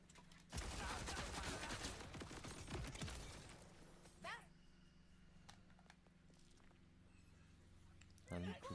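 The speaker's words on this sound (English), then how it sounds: "I'll just shoot him, why not?" Rapid gunfire erupts while shooting an enemy in the video game Borderlands 4, a loud burst of repeated shots for a few seconds that fades, followed by a couple of brief later shots.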